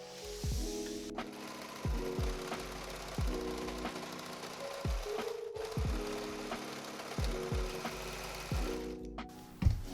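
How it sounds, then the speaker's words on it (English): Serger sewing machine running across a dress seam, its motor whirring in repeated short bursts with rhythmic mechanical chatter, close and steady, no talking. "serging across that seam"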